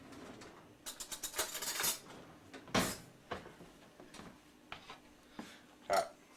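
A spoon stirs food in a container, making a burst of quick close clinks and scrapes followed by a few scattered taps, near and fairly quiet with no talking.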